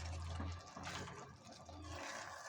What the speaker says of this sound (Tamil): நமக்கு தண்ணி எவ்வளோ தேவையோ அவ்வளோ ஊற்றிக்கலாம்